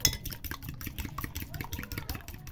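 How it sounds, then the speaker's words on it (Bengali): Eggs seasoned with salt and pepper are beaten by hand in a bowl, giving quick, steady, rhythmic clinking strokes up close with no one speaking. "এবার আমি এটাকে ভালো করে ফেটিয়ে সব কিছু মিশিয়ে নেব"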